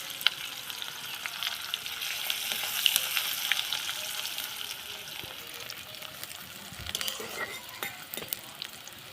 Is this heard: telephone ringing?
no